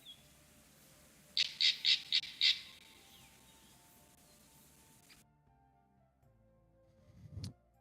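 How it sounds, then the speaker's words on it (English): Crows in a nature soundscape give a rapid run of five harsh caws in a row, moderately loud over a faint outdoor background, followed by quiet and a brief rustling noise near the end. "lower the volume of the crows and the nature sounds just a little bit"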